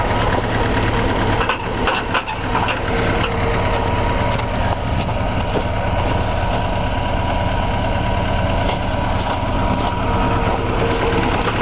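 A 1962 Willys CJ5 jeep, fitted with a six-foot Fisher plow, idles steadily and close after start-up, with a rough, slightly knocking low rumble.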